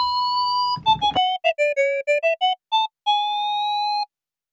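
A Studiologic Sledge synthesizer plays a bell-like patch as a series of short, clear tonal notes in a melodic run, framed by sustained tones whose upper oscillator slowly rises in pitch. It is heard alone, without talk.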